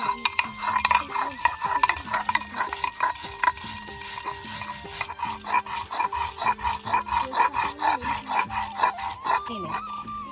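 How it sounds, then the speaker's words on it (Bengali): Mustard seeds and green chillies are ground into a paste on a grinding stone. Steady, rhythmic rasping strokes repeat close up over a faint tonal background. "এখন আমি সর্ষে আর লঙ্কাটা বেটে নিই"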